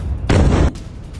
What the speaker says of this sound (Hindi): ये तस्वीर आप देखिए, मोसाद का हेडक्वार्टर और उसके ठीक पास ये मिसाइल गिरती नजर आई है।